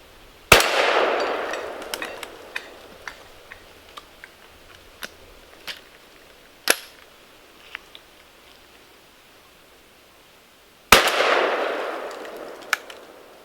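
A .410 shotgun loaded with Remington 3-inch 7.5 shot fires two sharp, loud reports about ten seconds apart at targets, each followed by a decaying outdoor echo, with faint scattered clinks and taps between.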